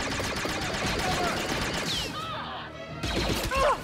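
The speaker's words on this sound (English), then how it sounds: "I hear blaster fire" Blaster fire in Star Wars Outlaws, at a base in a jungle canyon: a busy stream of zapping shots and crashes, briefly cut off midway, then resuming with sharp laser sounds.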